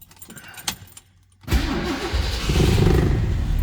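A 1967 Ford Mustang GT fastback with an S-code 390 V8 starts up: a brief quiet with light clicks, then the engine cranks and catches abruptly, settling into a loud, rumbling idle that swells slightly.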